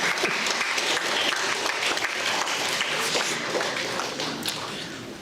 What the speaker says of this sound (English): rather than see the girls are at least clapping